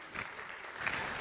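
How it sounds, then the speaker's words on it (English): An audience applauds for a short burst of steady, moderately loud clapping, with no voices standing out. "applause"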